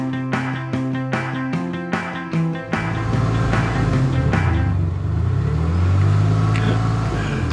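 Exhaust note of a 2008 MINI Cooper S with the accelerator floored: a run of sharp clicks and knocks gives way to a loud, rising engine roar that climbs and holds, with no speech.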